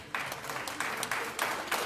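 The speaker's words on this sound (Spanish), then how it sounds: "Dan un aplauso al Rey de Gloria." A short burst of applause from a crowd, moderately loud, swelling in a few waves of clapping with no speech.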